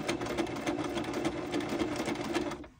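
A sewing machine zigzag-stitches a wide strip of lace with light pink thread, giving a steady, close, continuous mechanical whir with rapid needle ticks that stops abruptly at the end.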